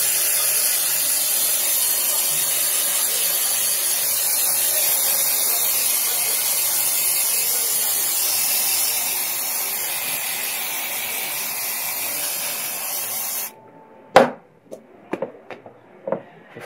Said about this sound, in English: So we spray the ramekins.